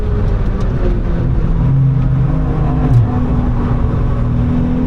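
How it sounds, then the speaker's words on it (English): A Volkswagen Up drives through the Adenauer Forest section of the Nürburgring, its small engine droning steadily from inside the cabin with a faint rising and falling pitch as it pulls along, no talk. "Volkswagen Up overtaking through Adenauer Forest."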